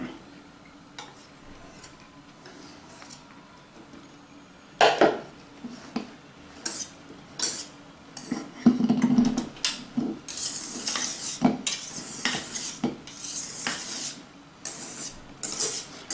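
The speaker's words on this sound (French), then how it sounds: "Et donc maintenant je vais incorporer tout ça avec mes blancs." A utensil folds a glossy melted chocolate mixture into whipped egg whites for chocolate mousse, with soft scraping and swishing strokes, intermittent clinks against the bowl and brief louder bursts of movement.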